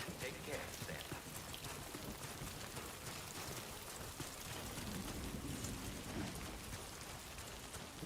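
Steady rain falling in the game Death Stranding 2, a continuous dense hiss of drops on surfaces, moderately loud and unbroken throughout with a low rumble beneath.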